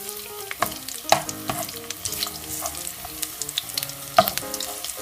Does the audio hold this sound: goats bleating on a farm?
no